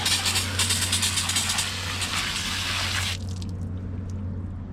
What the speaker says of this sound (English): it's totally okay to use regular water on the outside of the radiator to rinse it off like this